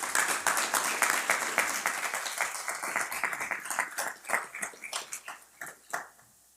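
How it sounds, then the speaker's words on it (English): Audience applause at an executive budget presentation: a sustained burst of many hands clapping, dense at first and then thinning into scattered claps before fading out. "You all deserve a round of applause"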